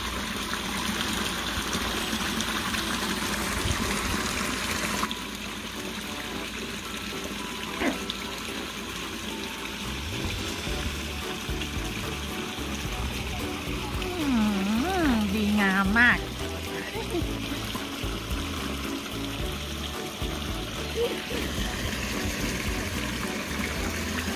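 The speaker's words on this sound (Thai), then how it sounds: "บรรยากาศลำธารตอนเย็นดีน้ำใสแจ๋วน้ำไหลมาจากบนภูเขาโน่น" Mountain stream flowing clear down from the hills on an evening outdoors, a steady broadband rush of water continuing throughout, with some faint voices and occasional brief sounds over the flow.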